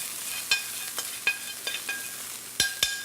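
Food with chili flakes sautéing in a pan gives a faint, steady sizzle, broken by a handful of light scraping and tapping stirs at irregular moments, with nobody speaking.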